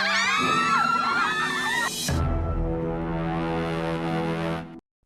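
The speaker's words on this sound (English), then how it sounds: "The door slammed shut behind them. Every girl screamed." A door slams shut with a heavy bang just as a chorus of girls' high, piercing screams cuts off, the bang leaving a low resonant rumble that rings on for a few seconds before stopping abruptly.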